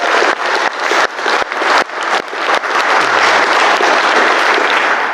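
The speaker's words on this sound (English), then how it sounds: "Round of applause for Miles." Wedding guests at a reception applaud the ceremony officiant, a loud, close and dense burst of clapping that swells and holds steady for several seconds.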